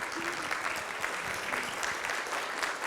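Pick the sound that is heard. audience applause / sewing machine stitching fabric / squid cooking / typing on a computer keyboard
audience applause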